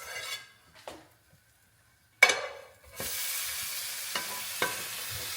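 Cheesy milk bread sizzles in a hot pan after being flipped, with a few soft scrapes and utensil taps before a steady, gentle frying hiss sets in with light crackles.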